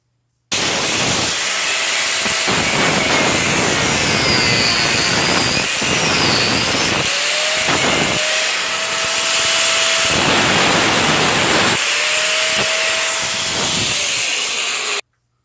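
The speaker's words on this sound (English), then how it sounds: "so we'll die grind that out" Die grinder grinding out metal in a mechanic's shop, a loud high-pitched continuous hissing whine that holds steady for several seconds, drops out briefly and spins back up, close and dominant.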